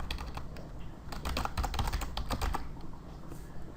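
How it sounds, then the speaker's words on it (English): Rapid keystrokes on a computer keyboard as a link is typed in, a steady run of close, crisp clicks with a denser flurry in the middle, no voices. "type in our link"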